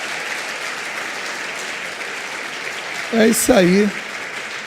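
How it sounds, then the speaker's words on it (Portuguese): Church congregation applauding in a steady, moderate wash of clapping, with someone speaking briefly over it near the end. "Dê um aplauso a Deus aí."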